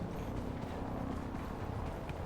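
Rapid footsteps in the battle-royale game Farlight 84 patter in a steady, even run beneath a continuous low game ambience, moderately loud and close.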